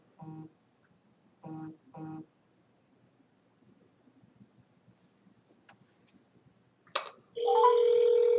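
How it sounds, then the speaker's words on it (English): Telephone call to a US senator's office: a few short dialing tones, a quiet gap, then a sharp click and a steady, loud ringback tone that continues to the end, with no talking. "we're dialing 202-224-6361"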